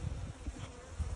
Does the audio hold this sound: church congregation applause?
no